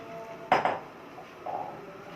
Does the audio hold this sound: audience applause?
no